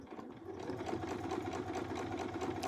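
A sewing machine hums and stitches steadily while free-motion quilting concentric circles, traveling along an existing stitch line. It sounds close and fairly quiet, a continuous even motor whir with a fast needle rhythm and no speech.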